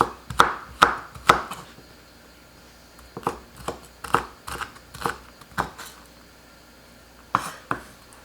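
A knife slices red chili on a cutting board for a fatsia shoot kimchi, sharp crisp chops coming in quick bursts of three or four with short pauses between, close and clear without talk.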